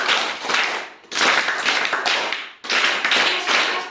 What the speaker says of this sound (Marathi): तिच्यासाठी जोरात तीन टाळ्या